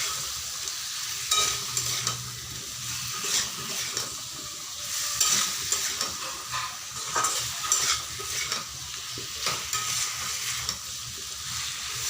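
Jackfruit curry being stirred in a pan with a little water, the spoon scraping in steady strokes over a soft sizzle, fairly close and moderately loud, with no voices.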